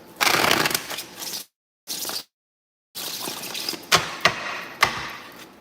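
A tarot deck is shuffled by hand in several quick riffling bursts separated by short pauses, ending with a few sharp taps of the cards, close and clear.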